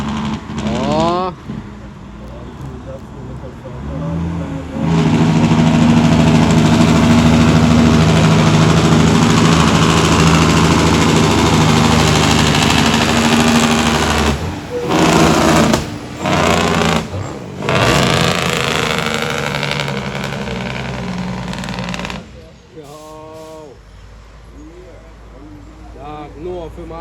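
A truck's jake brake engaging on a Jamaican road, a loud sustained rattling engine roar with a few brief breaks, fading near the end, with some talk in the background.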